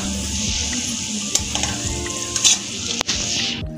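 Chopped capsicum sizzles in hot oil for a spicy macaroni gravy while a spoon stirs through the pan, a steady bright frying hiss with occasional scraping clinks, close and without talk.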